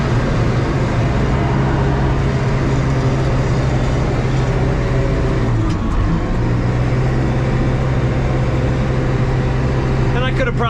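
A backhoe loader's diesel engine drones loud and steady while it climbs a curvy mountain road, a constant close rumble with a brief dip in the middle and faint clatter at the end.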